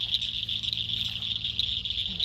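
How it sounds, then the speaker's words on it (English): Frogs call at sunset beside a fishing spot, a dense, steady high-pitched trilling chorus with a low background rumble, no voices. "Sun is going down and the frogs are out."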